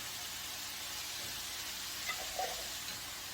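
Minced garlic sizzles in a hot frying pot while cooking vegetables for African fried rice, a steady loud hiss throughout with a couple of brief crackling pops near the end.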